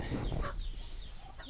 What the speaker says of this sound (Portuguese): é pato, é galinha, pra tudo quanto é lado.